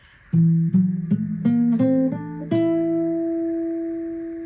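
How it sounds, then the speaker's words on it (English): Keyboard notes step upward one by one, a whole tone scale starting on A, at an even moderate pace, the last note ringing out and fading slowly. "a whole tone scale starting on A would be"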